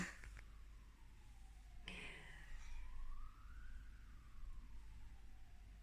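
A distant siren wails, rising and falling faintly over low traffic rumble, with a brief clatter near the start.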